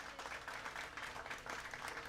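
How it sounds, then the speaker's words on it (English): Applause from a studio audience at a college basketball show, a faint, brief, even patter of clapping heard at low level with no voices over it. "Another round of applause"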